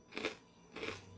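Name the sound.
crunch of food being bitten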